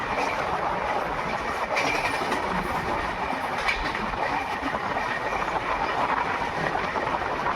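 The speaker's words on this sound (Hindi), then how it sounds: "तो ट्रेन स्किप कर रही है गुडा रेलवे स्टेशन को" The 18574 Bhagat Ki Kothi–Visakhapatnam Express rolls through Guda railway station in a continuous loud rumble with rhythmic wheel clatter and faint squeal, heard close from on board the train.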